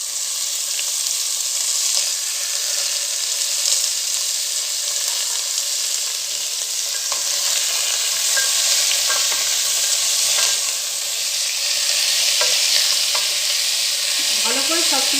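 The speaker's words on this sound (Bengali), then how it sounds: "কুমড়োটা একটুখানি নাড়ার পর আমরা দিয়ে দেবো পুঁই শাক।" Pumpkin sizzles and crackles steadily in a pan while being stirred for Pui Saker Chochori, with occasional scraping strokes and Malabar spinach tossed in toward the end; loud, close, and without any talking.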